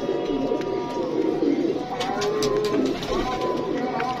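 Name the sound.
Rampuri pigeon cooing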